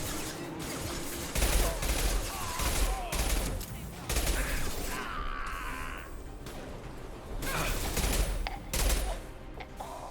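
Bursts of gunfire in the video game Mass Effect Legendary Edition, with repeated volleys of shots and impacts in clusters over several seconds, crashing debris and mechanical clatter between them, and a voice speaking faintly underneath.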